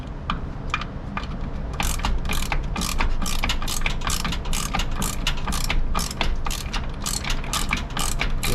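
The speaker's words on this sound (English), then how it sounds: "We got two little bolts we need to pull off, and we'll be able to pull this master cylinder off" A ratchet with a deep half-inch socket loosening master cylinder bolts on a 1984 Dodge W150 truck, rapid loud repeated clicking of the pawl in quick bursts up close, with no speech.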